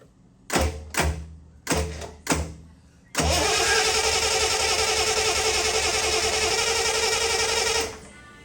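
A 1974 Triumph TR6 that has sat for years cranks in four short bursts, then catches and runs loud and steady for several seconds before shutting off.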